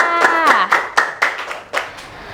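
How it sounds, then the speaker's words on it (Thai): A small group claps in a quick, even rhythm, with a high voice calling out at the start. "ปรบมือค่ะ"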